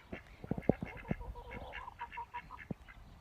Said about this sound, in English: These are the boy ducks, not the girl ones that are sitting on the eggs